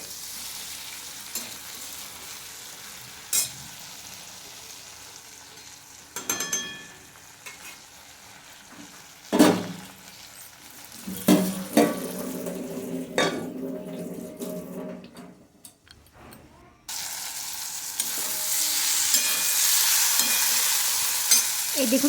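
Winter vegetables stir-frying in a pan, with scraping stirs, clinks and bursts of sizzle, then a steady loud frying hiss building toward the end.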